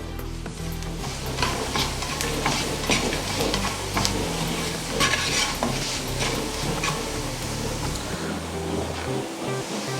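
A spoon stirs chili powder and garam masala through an aloo bonda mixture with a steady, busy scraping and rustling that runs for ten seconds without talk.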